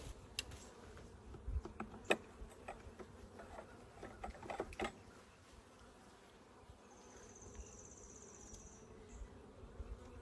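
Honeybees buzzing during a hive inspection, a faint steady hum of many insects close by, with scattered light clicks and taps of handling the hive.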